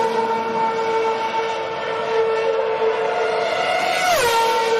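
Formula One race cars passing as a loud, steady high-pitched engine whine with layered harmonic tones, ending in a sharp downward pitch sweep as a car goes by.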